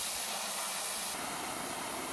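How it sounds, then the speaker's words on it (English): A garden hose on a hard setting sprays water into a soapy bucket, making a steady, close, fairly quiet hiss that runs evenly throughout. "spray it with the hose on hard to get it really nice and sudsy"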